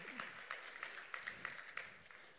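Conference audience applauding a talk on cross-platform apps in a hall, a brief burst of scattered hand claps with sharp peaks, fairly distant, alongside a faint voice.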